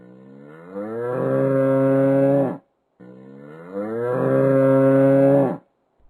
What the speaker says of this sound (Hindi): बैल जोर जोर से रंभा रहे थे